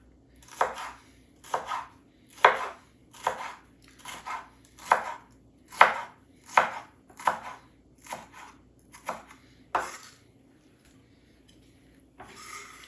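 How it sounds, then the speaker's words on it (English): Knife chopping an orange pepper very small on a cutting board, about a dozen crisp, evenly spaced chops in a steady rhythm, close and fairly quiet with pauses near the end, with no voices. "we're just going to cut our pepper, again, very small"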